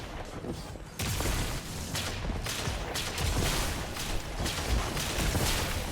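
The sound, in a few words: grenades and Vorpal weapon fire in video game Destiny 2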